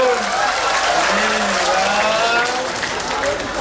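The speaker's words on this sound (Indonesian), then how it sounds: "Tepuk tangan dulu." Audience applause fills a Balinese drama gong comedy performance, a steady dense wash of clapping throughout with a voice speaking over it.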